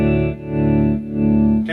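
Slide guitar sustains through a Carl Martin Surf Trem tremolo pedal set to zero, giving a thick, steady chord with gentle swells and a slight distorted, chorused shimmer, loud and close with no voices.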